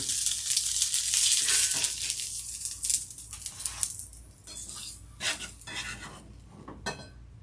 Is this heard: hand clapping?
no